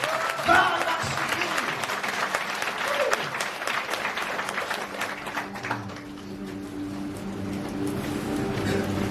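An audience at a church youth seminar applauds in praise, with a burst of clapping and some voices that fade into a lower murmur and a lingering tone toward the end.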